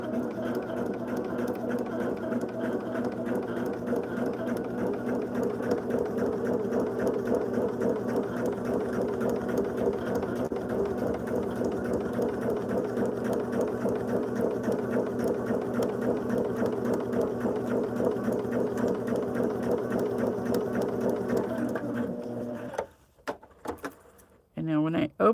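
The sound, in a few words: sewing machine stitching quilt pieces together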